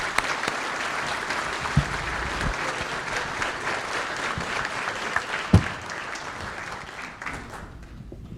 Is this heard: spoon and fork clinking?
no